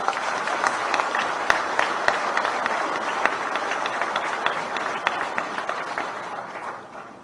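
Dense, steady applause from an audience at the Balikatan Exercise 2023 opening ceremony, many hands clapping together close by, holding loud for several seconds before tapering off at the end.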